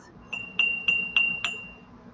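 Cut crystal glass pieces from a sugar and creamer set clink together four times in quick, evenly spaced succession, each a bright ringing chime with a short decay, close and clear.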